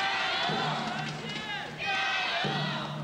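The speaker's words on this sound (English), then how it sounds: "You can hear that support in the crowd." Spectators at a badminton final cheer and chant in a sustained swell of crowd noise that dips briefly before surging again, with a commentator talking over it.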